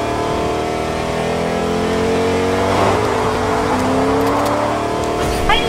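A car in the video game Fortnite drives at steady speed, its engine droning and shifting pitch as it accelerates, with a few short bumps and game effects near the end.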